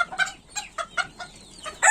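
A silver breeding rooster clucks in quick, close bursts while held by its wings, a string of sharp, uneven calls ending in a louder squawk.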